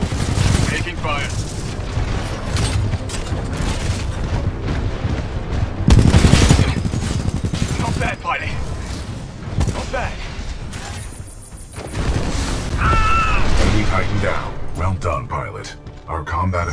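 Gunfire and heavy booms from a Titanfall 2 battle with titans, loud and dense, with bursts and blasts layered under game voices.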